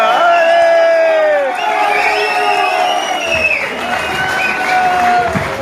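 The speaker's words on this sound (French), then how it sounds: "Merci de les accueillir avec des applaudissements dignes de ce moment historique" A wedding audience breaks into loud cheering, whooping and applause, high excited shouts and sustained clapping close up, tapering slightly toward the end.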